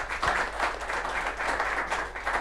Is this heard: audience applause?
yes